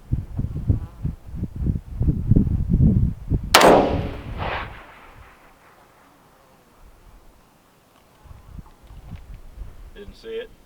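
A single sharp rifle report from a 300 Blackout or 5.56 fired at an 800-yard target on an open range, one loud crack with a brief echoing tail, preceded by people talking and followed by quiet outdoor ambience.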